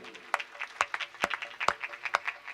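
Sparse, light clapping from a small crowd at an outdoor Bhagwat Katha religious gathering. A handful of sharp, separate claps ring out in a loose, uneven rhythm, thin and fairly faint.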